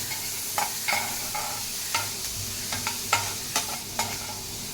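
Grated carrot is stirred into a batter mixture frying in a pan for gunta ponganalu, a continuous gentle sizzle broken by about ten sharp spoon clinks and scrapes at an irregular pace.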